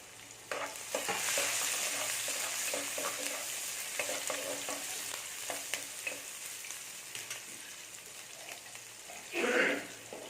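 Ten cloves of garlic cut into rounds fry in a pan for fish puttu, hissing steadily with stirring scrapes and clicks near the start, fading somewhat, then a brief louder rush near the end.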